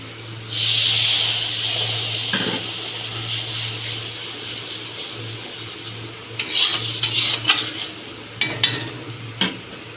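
Spices and turmeric fry in a pan, giving a loud hiss that opens the sequence and then settles into a steady sizzle. Scattered scrapes and clinks of a utensil stirring against the pan follow.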